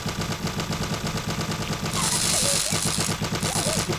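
Turrets in the video game Code:Valkyrie fire rapid automatic bursts, a dense rattling stream of shots that stays loud throughout, joined halfway by a harsh hissing blast layered over the gunfire.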